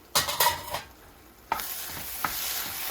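Egg with salt, chili powder and coriander powder is stirred in a hot pan for Tirunelveli-style kothu parotta, a few scraping strokes over a continuous sizzle that grows louder.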